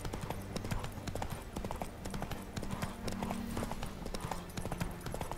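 Horse hooves clip-clop at a steady trot while riding in The Witcher 3, close and continuous, with background game sounds.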